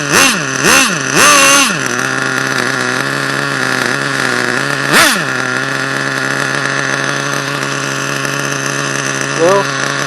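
An HPI Nitro 4.1 engine in an RC car runs loud and close, buzzing at a steady high idle with several sharp revving bursts near the start and another rev midway.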